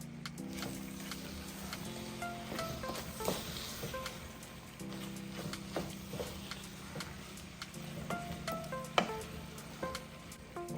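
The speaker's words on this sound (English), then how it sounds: "I'm gonna stir that up." Southern-style fried cabbage being stirred in a hot pan, giving a steady soft sizzle with scattered scraping clicks throughout and no talking.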